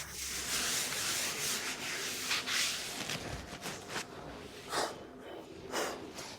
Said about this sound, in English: Let's remove all the dust, always using a microfiber cloth